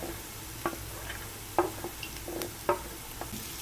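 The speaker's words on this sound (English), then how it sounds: "Stir fry the veggies in the oil for around 3 to 4 minutes" Finely chopped beans and carrots being stir fried in oil, a soft steady sizzle broken by several light scraping knocks of a spatula against the pan.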